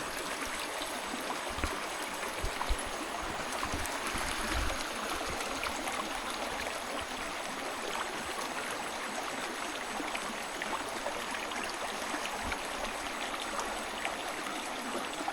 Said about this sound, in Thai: น้ำห้วยก็แบบนี้แล้วลำธารแบบนี้แหละพี่น้อง